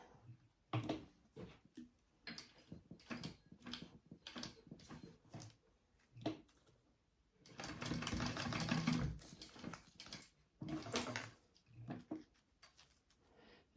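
Sewing machine basting a seam on a zippered tote bag, with short stop-start stitching bursts and then a longer steady run of rapid needle chatter, fairly quiet and close, with no voices.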